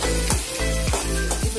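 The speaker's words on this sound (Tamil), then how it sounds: "இன்னும் கொஞ்சம் ஃப்ரை ஆகணும்." Ivy gourd (kovakkai) fries in a pan with a steady, close sizzle, and a spatula scrapes through it in regular strokes about every half second.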